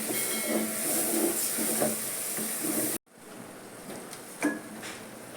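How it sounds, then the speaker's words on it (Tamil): Ground masala paste hits hot oil for a mutton gravy, giving a loud, bright sizzling hiss for about three seconds before it cuts off to a quieter background with a faint clink. "நம்ம அரைச்சி வச்ச மசாலா இப்போ போட்டுடலாம்."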